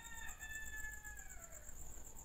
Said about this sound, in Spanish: Aquí les muestro otra gallina más y otro gallo.